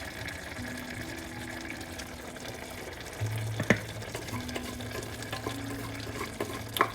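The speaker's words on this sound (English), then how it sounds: "I'm going to pour the lentils in this mixture here" Cooked lentils are poured into a curry mixture, wet slopping and gurgling with soft splashes and a few clinks against the pot, moderately close and without speech.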